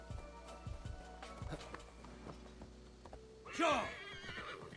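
A horse in the Assassin's Creed Valhalla video game gives a loud, wavering whinny near the end, after a few soft hoof clip-clops and faint game sounds, with a voice briefly heard.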